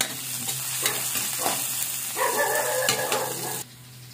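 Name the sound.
ginger frying in a pan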